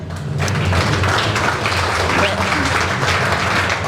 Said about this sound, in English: giving them a cheer